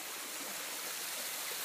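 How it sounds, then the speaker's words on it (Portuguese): Steady, dense rush of a waterfall in the Blue Mountains, Australia, a constant broad hiss of falling water heard from nearby with no voices. "Chegamos à cachoeira que nós queríamos."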